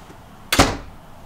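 A solid door on a 2011 Monaco Vesta 32 PBS Class A luxury motorhome shuts once with a single sharp, loud thud, and a short decay follows.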